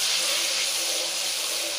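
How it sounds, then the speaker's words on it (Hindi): Water pours in a steady, close hissing stream for a couple of seconds without a break into a cooking pot of browned garlic and ginger for chicken korma. "अब इसमें मैं हल्का सा ये पानी"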